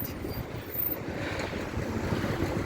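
Steady wind buffeting outdoors in cold weather near the Black Sea in Odesa, a continuous rumbling gust noise with no voices.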